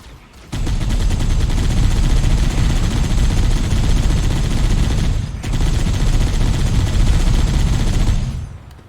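Sustained automatic gunfire in the Halo video game, loud and continuous for several seconds with a brief break midway, then resuming until it tails off.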